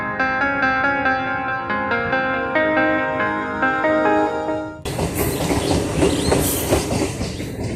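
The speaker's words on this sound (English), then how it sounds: "This is Tarukeshwar station, and this train, it's moving from Tarukeshwar station towards Howrah." A local train pulls out of Tarukeshwar station in West Bengal toward Howrah, with loud clattering wheels and rumbling carriages. Background music plays before the train comes in.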